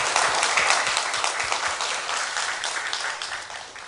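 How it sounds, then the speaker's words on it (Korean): A church congregation at a Sunday service breaks into applause, a dense, steady wash of many hands clapping close by that gradually fades over a few seconds. "우리 하나님의 영광의 박수 올리겠습니다."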